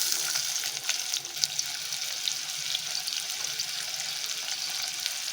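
Big onion, cut into thin rounds, frying in hot oil: a steady, close, bright sizzle with faint crackles throughout and no talking.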